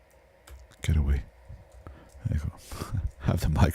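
Keyboard keys clicking in quick irregular bursts during a live real estate video editing session, close and fairly loud, with a voice talking over much of it.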